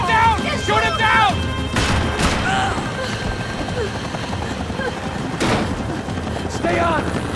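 Gunfire in the video game Max Payne 3, with several sharp shots and bursts in a loud firefight, heard alongside shouted voices and a busy game soundscape.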